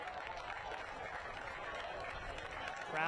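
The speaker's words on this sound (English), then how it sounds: "A round of applause." Stadium crowd at a professional soccer match claps and murmurs in a continuous wash of applause, moderately distant and steady throughout.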